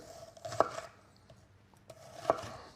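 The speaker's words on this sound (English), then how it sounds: "to make our onion rings, we're just going straight through" A knife slices straight down through a firm onion on a cutting board to make onion rings, giving two crisp, separate chops with a quiet pause between them.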